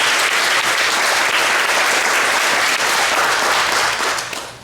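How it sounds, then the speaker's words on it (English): Loud, dense applause from an audience at a school moving-up ceremony, steady for a few seconds before tapering off at the end. "Give them a round of applause if you will."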